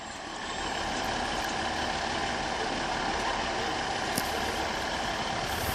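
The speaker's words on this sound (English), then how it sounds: "Got another train coming out for the sidings" A train pulls out of the sidings at Exeter St David's station on the Great Western Main Line, giving a steady, close engine roar and rumble that holds level the whole time with no talking.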